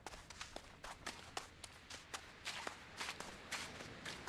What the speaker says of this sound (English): I heard wet footsteps here and then drier as we got more to land